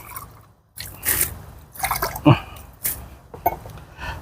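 Water splashes and trickles in short, uneven bursts as a glass is rinsed under running water, close by, with brief quiet gaps between.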